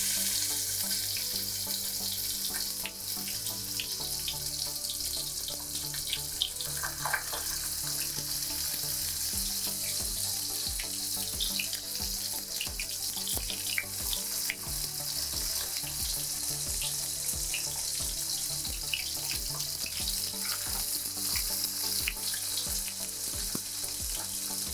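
Tofu pieces frying in hot oil for vegan carne asada tacos, a continuous bright sizzle with scattered crackles and pops, steady and close with no voices.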